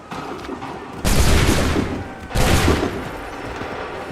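Two loud musket volleys crash out in an Assassin's Creed III battle, each a broad rolling burst about a second apart, with crackling decay and no talk.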